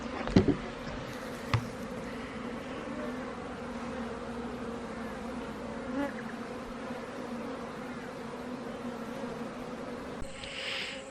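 Honey bees swarm around an open beehive whose smoker is not working properly, giving a continuous, even buzzing drone close by, with a couple of brief knocks and no speech.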